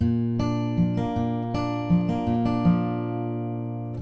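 An acoustic guitar plays a repeating fingerpicked pattern from a song, plucked notes in a steady rhythm, some in quick succession, ringing close and clear.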